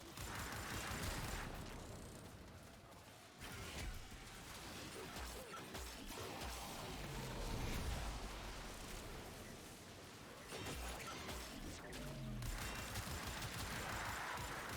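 Rapid gunfire and mechanical clatter from the sci-fi shooter game Warframe, a dense stream of shots with crashes and ratcheting weapon noise, moderately loud with no talking.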